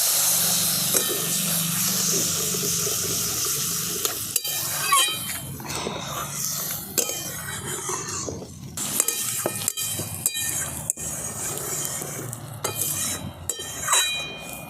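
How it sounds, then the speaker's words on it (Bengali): Water is poured onto fried spice paste for a fish curry with eggplant, setting off loud bubbling and sizzling in the pot, broken by frequent metal clinks and scrapes of utensils against the pan. "এরপর আমি দিয়ে দিচ্ছি জল"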